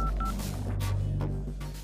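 A phone being dialed in a film scene gives a few quick, short touch-tone beeps over a steady low hum, near and fairly faint.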